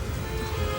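Steady rain falls continuously, a dense close hiss of drops on surfaces with a low rumbling undertone and no voices.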